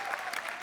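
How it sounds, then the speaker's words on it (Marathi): An audience applauds guest Sharad Ponkshe on a Marathi comedy show stage, a brief soft patter of many hands clapping. "जोरदार टाळ्या त्यांच्यासाठी झाल्या पाहिजेत."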